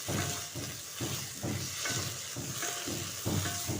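Taro stems frying in a wok over a gas flame, with a continuous close sizzle and hiss broken by rhythmic scraping strokes of stirring, no voices.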